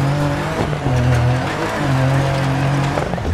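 A rally car in the DIRT 4 video game drives with a steady, loud engine drone that shifts pitch as it brakes and accelerates through corners, with faint tire noise and no talking.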